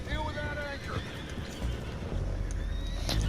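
Horses in the Red Dead Redemption 2 video game neigh and whinny in high, wavering calls, with clip-clopping hooves and other game sounds mixed in beneath.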